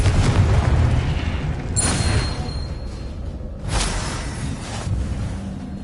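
Confringo explosion spell cast in a Harry Potter video game: a few loud blasts and bursts, each with a whooshing crack, spaced over a continuous rumbling background of game noise.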